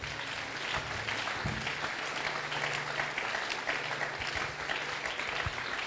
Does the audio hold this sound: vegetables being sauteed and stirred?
no